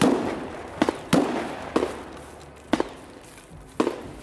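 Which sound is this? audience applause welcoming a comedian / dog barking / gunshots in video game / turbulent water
gunshots in video game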